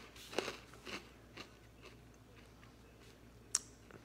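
Someone eats Cinnamon Toast Crunch Churros cereal dry, without milk, with a few faint close crunchy bites and chewing in a quiet room.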